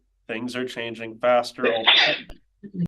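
A sneeze bursts out near the end of a public finance committee meeting, loud and close, right after a stretch of a speaker's ongoing talk.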